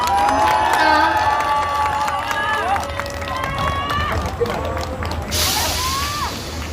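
Crowd at an outdoor election rally cheering and clapping after a candidate's daughter's speech, a dense, steady wash of applause and raised voices with shouts and whoops rising over it throughout.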